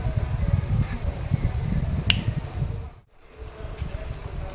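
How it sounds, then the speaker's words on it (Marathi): A single sharp finger snap cuts through a steady low rumble of background noise. "चुटकी मारू ना."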